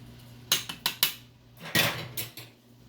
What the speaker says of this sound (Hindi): चलिए अब इसको मिक्स करती हूँ।